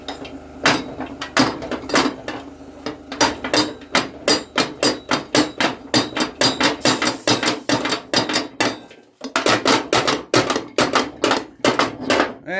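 A bar is hammered against a John Deere 42-inch cutter deck spindle, with a rapid run of sharp metallic blows repeating close and loud, a brief pause, then more strikes, with no talk.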